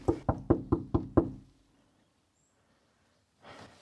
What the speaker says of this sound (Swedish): Kanske ska knacka på.